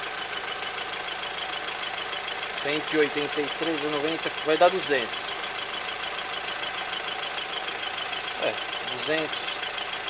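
A GM Prisma 1.0 8v, 2017/18, idles with a loud abnormal engine noise, a steady mechanical drone with a faint knock running throughout while someone speaks over it close by.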